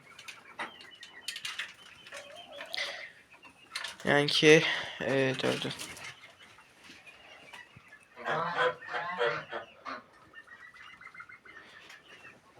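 Chicks peep and chirp while roosters or hens cluck loudly in bursts, with a person speaking briefly in between; the chicks are sick.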